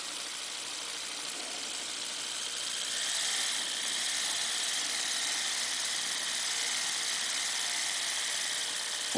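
A repowered Tenshodo HO-scale brass 0-8-0 model locomotive runs at about 6 volts, making a steady, fairly faint high-pitched mechanical whir from its motor and gears, with a slight rise partway through.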